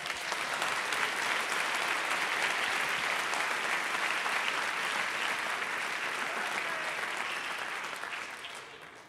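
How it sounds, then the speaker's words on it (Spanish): A church congregation claps for the king during a sermon, the applause dense and even throughout, softer and slightly distant, tapering off toward the end. "Denle un aplauso al rey."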